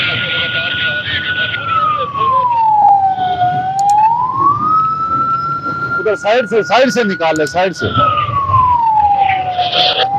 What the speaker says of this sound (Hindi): एम्बुलेंस आ रही है, तारक टिक्का के पास है